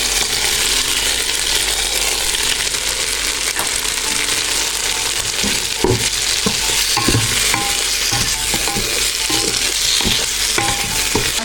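Prawns with tomato frying in a pan, a loud continuous sizzle with repeated scraping and clinking as a utensil stirs against the metal throughout, no voices.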